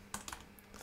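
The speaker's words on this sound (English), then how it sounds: "And here we're going to type version" A few soft keystrokes on a computer keyboard while writing a Docker Compose file, brief quiet clicks spaced irregularly over less than a second, with no other sound.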